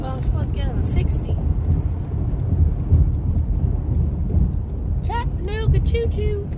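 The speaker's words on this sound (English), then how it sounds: "The rain got me, guys." Steady rain on a dark, dreary street with rumbling low noise that may be distant thunder or passing traffic, continuous and fairly loud, with a voice singing and speaking over it.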